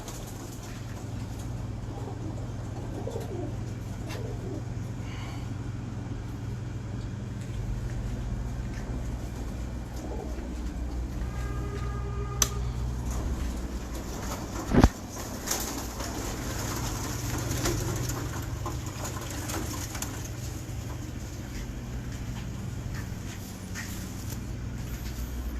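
Domestic pigeons cooing softly at a loft, low murmuring calls running steadily through a quiet background with a few faint clicks and a brief sharp knock.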